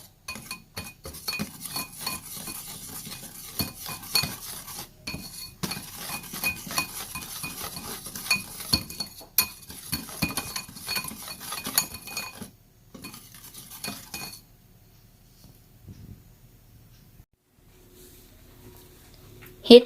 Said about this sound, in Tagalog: Combine together the cassava flour and the cocoa powder. And mix until well combined.